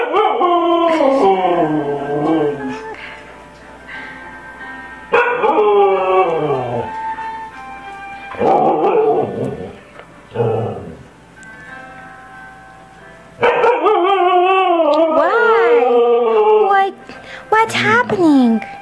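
A husky throws a tantrum indoors with long, wavering, loud howls and whines, several drawn-out cries broken by short pauses and yips, close by.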